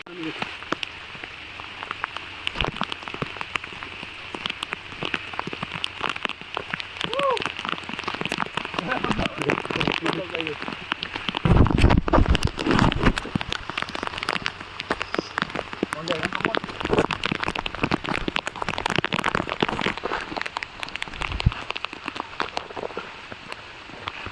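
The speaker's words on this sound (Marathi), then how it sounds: "त्याला पाऊस आला." Monsoon rain pattering steadily on a surface at Tikona Fort, Maharashtra, with scattered drops and a louder burst midway; faint voices can be heard underneath.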